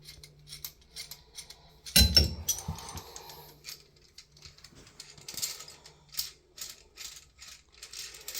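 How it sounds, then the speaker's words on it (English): A puller works at a frozen handle on a Price Pfister faucet, giving a sharp metallic clank near two seconds, then a run of small ratcheting clicks and scraping ticks close by, fairly quiet throughout. "this handle's a little bit frozen, so hopefully this puller will take it off"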